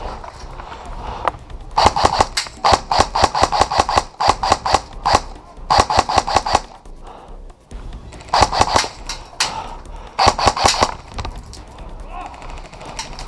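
Bursts of automatic gunfire in a night-raid military shooter video game, rapid rattling volleys loud and close, separated by brief pauses, with a voice talking between bursts.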